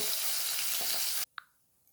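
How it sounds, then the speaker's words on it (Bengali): Bata fish frying in oil in a pan, a dense loud sizzle that stops suddenly, followed by a brief faint clink and quiet. "সমস্ত মাছগুলোকেই আমি এরকম লাল করে ভেজে নেব।"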